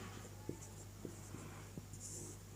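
Chalk taps and scrapes on a board during a Sanskrit lesson, with a few faint, sparse strokes at irregular intervals over quiet room hum.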